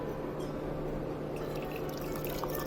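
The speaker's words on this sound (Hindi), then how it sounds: "पानी को हम छान लेंगे।" Boiled herbal water being strained, a steady soft trickling and dripping of hot liquid through a strainer into a vessel, continuous and close with no talking.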